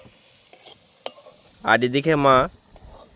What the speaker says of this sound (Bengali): আলুটা ভেজে নিচ্ছে